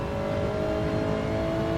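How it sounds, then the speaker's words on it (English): A Gr4 race car engine in Gran Turismo 7 holds a high, steady rev at around 7,600 RPM on the Tsukuba circuit, a constant loud buzzing drone with no voices. "So you're revving this car out here,"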